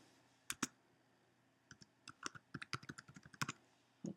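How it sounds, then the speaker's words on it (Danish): Computer keyboard typing while logging into a mailbox: a couple of isolated key clicks, a pause, then a quick irregular burst of close, crisp keystrokes and a final double tap, with no speech. "og så skriver jeg Amager som bruger"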